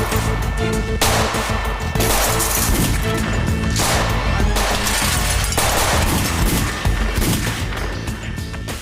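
Loud, sustained bursts of rapid gunfire with sharp cracks and crashes, fairly close and continuous across several seconds, with no talking.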